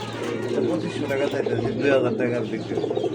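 A pair of pigeons for sale coo softly and repeatedly nearby while people talk over them.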